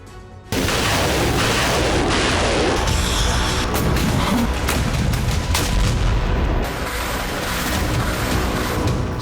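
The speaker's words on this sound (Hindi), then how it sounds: "सूमी में मिसाइल ड्रोन से धमाके हो रहे हैं।" Missile and drone strikes hit buildings in Sumy, Ukraine, producing a loud sudden blast followed by continuous rumbling, crashing and crackling debris that carries on for several seconds without any voices.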